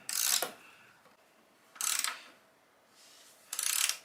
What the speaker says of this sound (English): And just use a ratchet to tighten up the bolt to the frame.